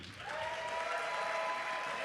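Audience applause rises and holds steady as the host, actor Jake Busey, is welcomed onstage at the 2018 IAWTV Awards, a dense continuous clapping from a large crowd with some tonal whistling or cheering mixed in.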